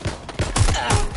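A short burst of rapid gunfire in a combat setting, several loud close shots fired one after another with no gaps of silence between them.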